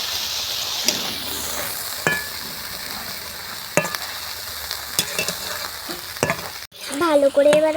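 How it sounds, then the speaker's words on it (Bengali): Coriander chutney with dates and water being stirred in a hot pan, a low steady sizzle broken by scattered scraping knocks of the spoon against the metal, close and moderately loud. "ভালো করে এবার আমরা নেড়ে নিচ্ছি।"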